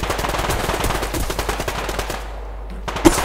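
Rapid automatic gunfire from the online shooter Survarium, loud, close and continuous for about three seconds, ending in one sharper final shot.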